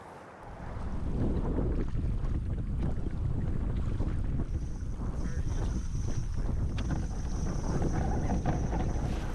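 Steady, loud wind roars across the microphone out on the Niagara River during a smallmouth bass fishing trip, a constant broadband rush with water and boat noise beneath, continuous with no pauses.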